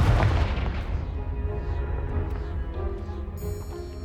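A Confringo blasting spell explodes in Hogwarts Legacy, striking a pile of debris: a loud, boomy blast at the start whose rumble slowly fades over several seconds.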